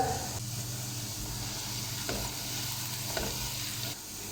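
Potatoes, carrots and peas fry in a pan over a medium flame, a steady close sizzle with a couple of faint stirring scrapes and no voices.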